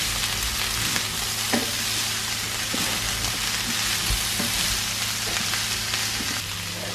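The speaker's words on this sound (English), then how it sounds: "Give that a stir." Sage and other food sizzle and fry steadily in a pan, with occasional scraping clicks as the mixture is stirred; a continuous close, even crackle throughout.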